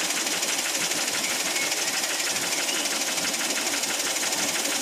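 A Daihatsu Ayla engine that ran out of oil knocks hard and fast in a rapid, continuous metallic clatter, steady and close throughout with no talking.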